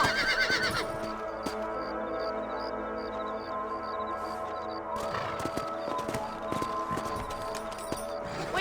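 In Red Dead Redemption, a horse whinnies loudly at the start, followed by steady clip-clopping hooves and a second neigh, set against a droning musical background.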